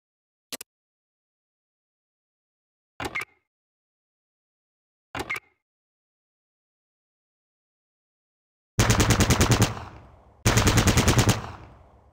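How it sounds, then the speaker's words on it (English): Gunfire aimed at a training dummy in a video game: three separate single shots spaced a couple of seconds apart, then two loud, longer bursts of rapid automatic fire that ring out and decay. "Target the dummy, and left-click to fire at it."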